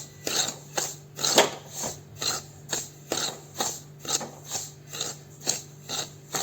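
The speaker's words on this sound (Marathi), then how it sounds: "रवा भाजताना तो सतत असा ढवळत राहायचा आहे" Semolina being roasted in a pan for sheera is stirred steadily, a spoon scraping in a regular rhythm of about two strokes per second, close and moderately loud, with no talk.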